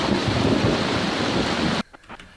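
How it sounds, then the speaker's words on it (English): A heavy roll of thunder rumbles through steady rain during a storm on the Appalachian Trail, then cuts off abruptly, leaving faint drips and rustling. "Listen to that thunder."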